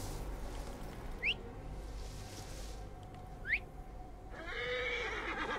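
Horse neighing in the game Assassin's Creed Origins, two short rising whinny-like calls a couple of seconds apart over a steady ambient background, followed by a louder burst of game sound near the end.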